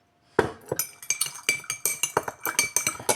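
A utensil clinks and scrapes against a bowl while a mixture is stirred, a run of bright, irregular metallic taps following one another closely, near and moderately loud, with no talk.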